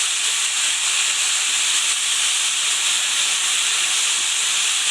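Okra pachadi with tamarind water hisses steadily in a pan over a medium flame while it is stirred. The sizzle is close and continuous, with no voices.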